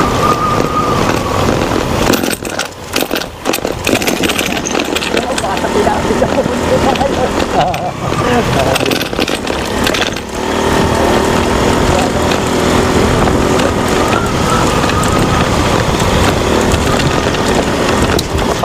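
Motorcycle engine running on the Mariveles–Bagac road in Bataan, a loud continuous drone heard up close, with a few brief dips before it settles into a steady roar for most of the stretch.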